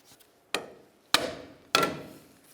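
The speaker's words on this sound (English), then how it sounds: "take our pry bar and bonk those away from the inner tie rod end" Pry bar bonking locking tabs off an inner tie rod end on a 1999-2003 Toyota Solara: three sharp metallic knocks at even intervals, each ringing briefly, with a faint tap before the first.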